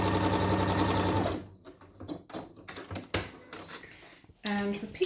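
Sewing machine running a straight stitch along the edge of a skirt pocket, a fast loud mechanical chatter for over a second, then stopping, followed by scattered handling clicks and a short final burst.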